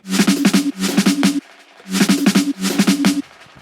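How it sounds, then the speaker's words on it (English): A short drum fill at 172 BPM from an Akai MPC Live, two quick rolling bursts, a brief gap, then two more, each washed in reverb and delay; punchy, close and loud, with no talking. "Pretty cool little drum fill, and I've got some reverb and delay and whatnot from the built-in"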